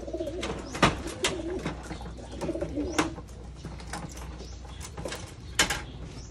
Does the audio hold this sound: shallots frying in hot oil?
no